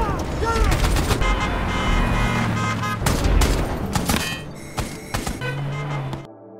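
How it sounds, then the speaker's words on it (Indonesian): Militia gunfire in a film scene, rapid bursts of sharp shots and heavy thuds layered over engine noise and music tones, loud and dense before cutting abruptly to silence. "sebuah tembakan dari milisi sempat mengenai pipa pengeboran"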